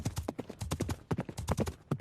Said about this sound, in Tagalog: Mabilis kabayo niya.